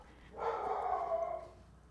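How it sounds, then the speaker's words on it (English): A dog in the background lets out a single drawn-out howl lasting about a second, moderately faint and with no talking over it. "that's my dog howling in the background"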